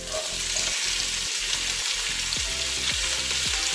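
Garlic, celery, pepper, carrots and onion frying together in a pan for a lamb shank tomato sauce, a loud continuous sizzle with rhythmic stirring scrapes, close up.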